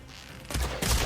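Two close, sharp gunshot bursts in a video game, one about halfway through and another near the end of a short moment.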